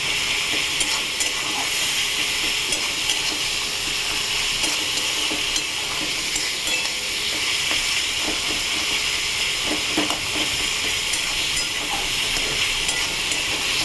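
Spice paste frying in oil while being worked for a Bengali fish curry (macher jhol), giving a steady, close sizzle with scraping stir sounds and no talking.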